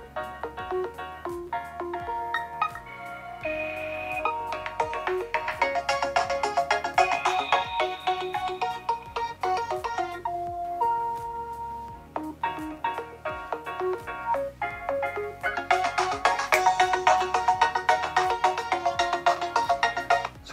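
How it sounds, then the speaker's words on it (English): A bright, melodic ringtone on an OPPO Reno 4 running ColorOS 7.2, chiming tones looping steadily for about twenty seconds, clear and alone with no talk. "that's the ringtone that I'm using on the device"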